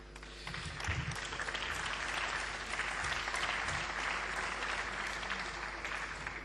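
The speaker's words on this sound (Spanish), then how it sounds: "Agradezco sus aplausos" Sustained audience applause fills a hall after a political address, steady dense clapping from a crowd that holds at an even level throughout and thins slightly at the end.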